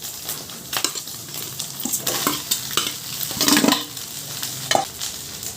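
Chicken fried rice being stir-fried with egg in a pan, a busy sizzle under repeated scraping and tossing strokes of a spatula, close and fairly loud, with irregular rhythm.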